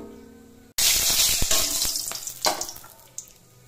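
Oil poured into a hot pan for cooking fish bursts into a sudden loud, close sizzle after brief quiet, then keeps crackling with sharp pops and spits as it settles; no talking.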